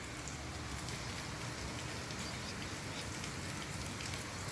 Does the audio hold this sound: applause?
no